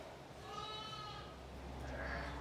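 A sheep bleats at lambing time among ewes and lambs, one wavering drawn-out cry followed by a fainter second call over low background rumble.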